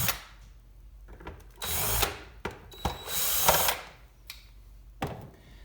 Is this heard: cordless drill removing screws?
yes